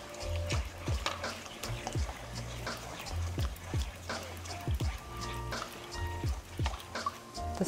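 A spoon stirring cassava cake batter made with coconut milk in a bowl, without a whisk, giving repeated wet scraping and sloshing strokes in a steady rhythm, fairly quiet and close.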